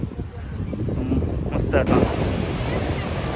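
Ocean surf rolls onto a quiet, uncrowded beach in Goa, a steady, moderately loud wash with wind buffeting the microphone and a brief gusty burst partway through.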